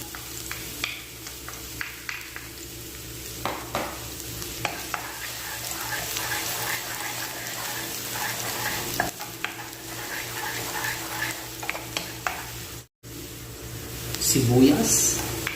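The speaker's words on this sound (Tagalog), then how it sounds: "unahin natin ang ating luya sa paggigisa. At isunod natin ang ating garlic." Ginger and then garlic sauté in a pan for Filipino dry adobong pusit, making a steady sizzle with repeated scraping stirs. A person talks over the cooking throughout.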